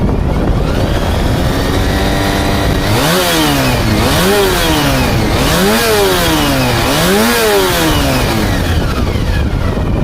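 A Honda VFR400 motorcycle's water-cooled 399cc four-stroke 90-degree V4 engine revs up and down several times in repeated swells, loud and close, with no talking.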